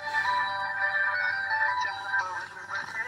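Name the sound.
phone call ringtone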